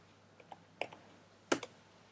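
A few soft, sparse computer keyboard keystrokes click in a quiet room, ending with a sharper, louder press of the enter key, close and isolated without speech.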